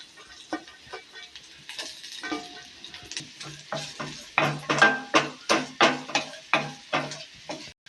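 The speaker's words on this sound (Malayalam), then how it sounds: "തേങ്ങാക്കൊത്ത് നെയ്ക്കകത്തോട്ട് വാർത്തെടുക്കാം നമുക്ക്." Coconut pieces frying in ghee in a pan for jackfruit payasam: close sizzling with repeated rhythmic stirring scrapes and clicks of a spoon against the pan, growing louder and steadier toward the end.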